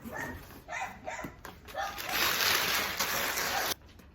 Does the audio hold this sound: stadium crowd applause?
no